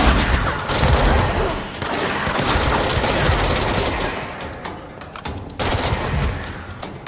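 Sustained gunfire in Alan Wake's American Nightmare, dense overlapping shots and bursts running loud and continuous for several seconds with brief lulls, no voices.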